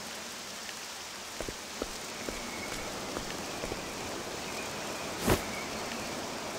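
Rain falling in Octopath Traveler 2 during a town scene, a steady soft patter and hiss with scattered droplet ticks and one brief louder burst near the end, with no speech.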